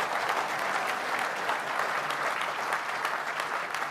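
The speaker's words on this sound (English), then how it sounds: "give a round of applause for that one" An audience in a studio talk-show setting claps steadily for a few seconds, a dense even wash of applause with no voices over it.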